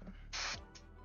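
Short aerosol spray bursts hit a model figure of Arthur Morgan from Red Dead Redemption: one longer hiss and then a brief second puff, faint and close in a quiet room.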